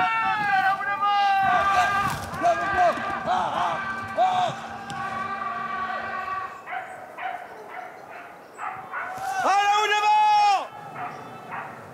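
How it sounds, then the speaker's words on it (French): Hunting dogs bark and bay during a big-game drive, with repeated loud, pitched calls coming in bursts, some near and some farther off, and people talking in between. "Parce que la voix des chiens rapproche."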